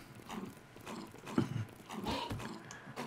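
Galloping horse hooves in the video game Kingdom Two Crowns, Norselands, a steady rapid clip-clop rhythm with an occasional whinny over a busy game soundscape.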